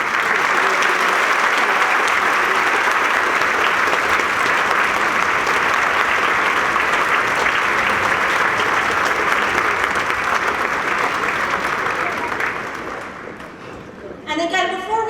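Sustained audience applause fills a school auditorium at an elementary honors band and orchestra concert, dense and steady for most of the stretch before thinning and tapering off near the end.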